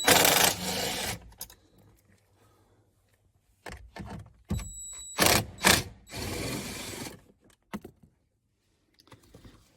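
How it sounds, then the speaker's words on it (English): A ratchet works on the 10mm bolts holding a driver-side knee airbag in a 2010-2015 Lexus RX350 or RX450h, close clicking ratchet bursts, metallic taps and rustling separated by quiet gaps. "you can undo the bolts, 4 bolts holding the airbag to the vehicle, 10mm heads"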